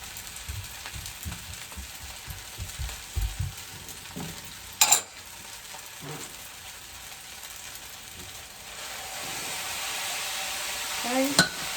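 Shrimp and chicken fried rice with mushroom, onion, oyster sauce and soy sauce sizzles softly in a hot pan, with a few scraping stirs and brief clatters, a steady low frying hiss building toward the end.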